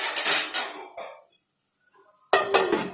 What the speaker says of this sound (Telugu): నేను మూత పెడతాను.